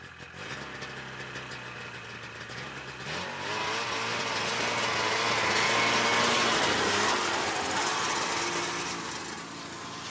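A snowmobile engine running as it drives up to a forest hut in snow, starting as a lower drone, then growing louder and harsher as it revs and climbs before easing slightly, close by with no talking.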